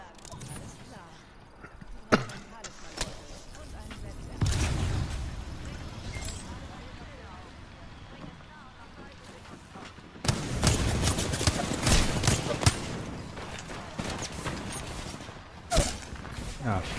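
Gunfire in the video game Apex Legends comes as sharp single shots and dense bursts of rapid fire, loud in places and distant in others, mixed with other game sounds and some speech.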